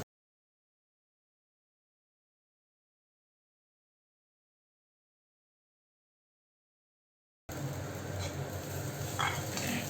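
Red poha being stirred into onion and capsicum in a pan for egg aval upma, a steady scraping and soft sizzle that begins abruptly after a long silence.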